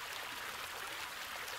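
Water rushes steadily from a waterfall in the video game Rake. The broadband hiss is continuous and even, with no talking over it.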